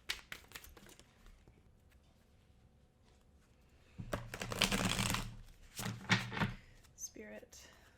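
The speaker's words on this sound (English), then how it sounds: "I'm just going to shuffle a few times more for good measure." Tarot cards get shuffled close by: faint riffles and taps at first, then a louder flurry of shuffling in the second half, with a few soft knocks as the deck settles.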